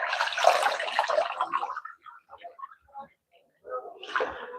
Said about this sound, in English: Now I'm washing so that I can put it in the pot.